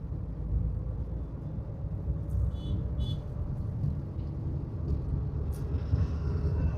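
A car driving in second gear, heard from inside the cabin as a low, steady engine and road rumble at moderate level, with a couple of faint brief clicks and no talking.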